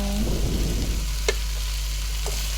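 Egg noodles tossed with masala in a hot pan, giving a steady frying sizzle with soft stirring scrapes; one sharp metallic clink stands out midway, and no one speaks.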